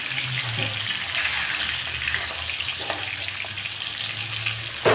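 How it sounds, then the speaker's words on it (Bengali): Katla fish pieces frying in oil after being turned over, a steady loud sizzle with light crackles and a low background hum, no talking. "একই রকম করে আমি এই পিঠটাও ভেজে নেবো"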